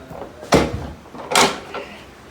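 Hinged access door on a brewery hot water tank in a 7-barrel brewhouse swung open, with two distinct metallic clunks about a second apart over a quiet room hum.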